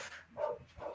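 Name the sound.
dog barking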